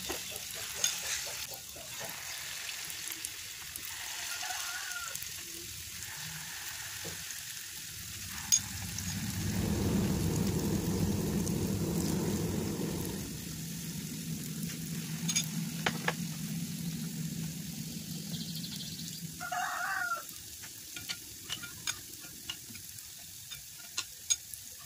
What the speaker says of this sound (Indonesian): kita ambil adonannya ini untuk digoreng ke dalam wajan satu per satu